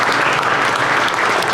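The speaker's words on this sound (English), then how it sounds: "So let's give Cassie and the Chamber a round of applause." Steady, dense audience applause at the Rice County Fair's Best of the Best 2023 event, a broad wash of many hands clapping together, loud and continuous with no voices over it.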